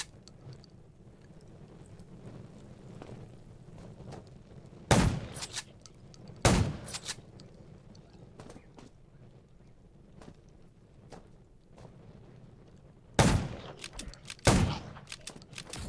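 Gunfire in the zombie survival game Undawn: four sharp, loud bursts of shots spaced several seconds apart, standing out against a low, quiet background, with no talk.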